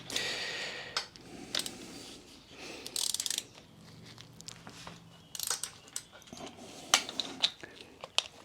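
A ratchet clicks in short bursts as it releases the top nut on a Harley Davidson Softail Sport Glide shock absorber, with metallic ticks and clatter nearby and quiet pauses in between.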